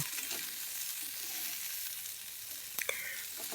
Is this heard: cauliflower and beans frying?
yes